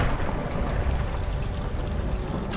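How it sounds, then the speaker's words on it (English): Steady, dense rain pours down, a continuous close wash of water splashing on surfaces. "It's raining!"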